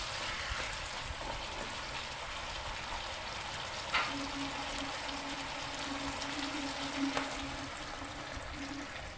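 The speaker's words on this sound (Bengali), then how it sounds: "এবার এর উপরে আমি জল দিয়ে দেব।" Bengali potato and pea masala for aloor dum frying in a pan as water is added, a soft continuous sizzle with a faint bubbling tone and a couple of brief clinks, fairly quiet, no voices.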